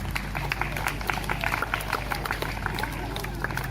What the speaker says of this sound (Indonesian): Tepuk tangan untuk kegiatan ini dulu.